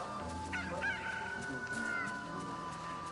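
A chicken clucks and crows in a video game, a few squawking calls over a busy, continuous background of game sound, moderately loud and unaccompanied by speech.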